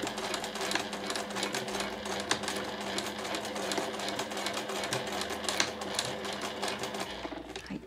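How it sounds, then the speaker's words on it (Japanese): Close, steady rattling of a sewing machine stitching fabric for a patchwork tray, running continuously throughout. "そしたら針を下ろして縫います"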